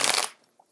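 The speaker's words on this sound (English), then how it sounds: "I'm getting the card shuffled out here" Tarot cards shuffled by hand in one short, close riffle that stops abruptly and leaves near silence.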